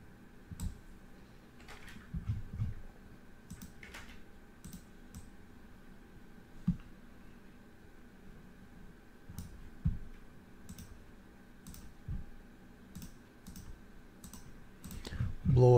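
Faint computer mouse clicks and a few keyboard taps come scattered and irregular over a quiet room hum while a list is cut and pasted, with light talk at times.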